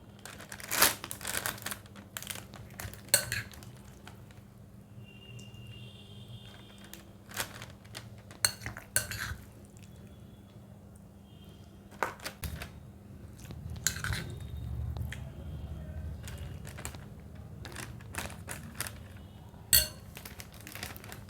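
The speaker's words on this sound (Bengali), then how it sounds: "এবার আমি এখানে নিয়ে নিলাম দুটো ফয়েলের প্যাকেট এই প্যাকেটের মধ্যে এই মিশ্রণটা ঢুকিয়ে নেব" A food mixture is spooned into foil packets: soft crinkling foil and light clinks of a spoon come in scattered, close bursts against a quiet kitchen background, with no talking.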